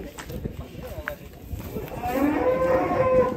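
A large cow moos loudly close by, a long low drawn-out call building in the second half over outdoor background noise, with people talking.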